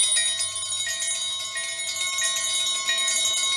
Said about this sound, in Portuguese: Esses sinos têm sinos dentro dos sinos.